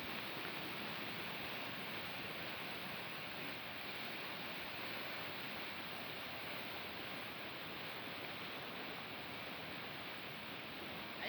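Floodwater rushing hard through a small creek, a steady broadband roar with no pauses, fairly faint and even throughout, with no voices.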